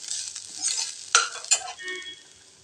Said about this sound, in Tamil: எண்ணெயில் ஒரு நிமிஷத்துக்கு வதக்கிக்கலாங்க.